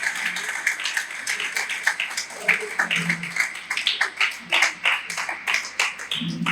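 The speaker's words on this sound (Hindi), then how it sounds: "एक बार जब तालियां बजा दीजिए" Audience applause at a stand-up comedy show: a dense wash of many hands clapping, steady and moderately loud throughout, with no speech over it.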